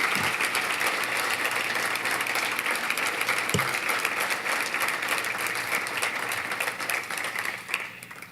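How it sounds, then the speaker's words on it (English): An audience at a chamber of commerce breakfast event applauds steadily for several seconds, a full even wash of clapping that thins slightly toward the end, with no voices on top. "Let's give them a round of applause."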